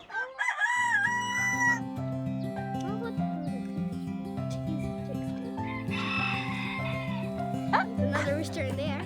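Rooster crowing on a farm, one of several roosters kept with hens and a goat, sounding as a loud, drawn-out call with overlapping harmonic tones and other fowl noise, alongside a voice.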